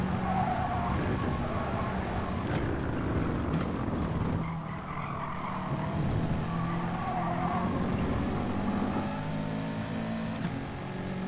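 A race car in an FIA Nations Cup racing video game slides and skids with screeching tyres over a constant engine drone, squeals recurring across the run with no talking over it.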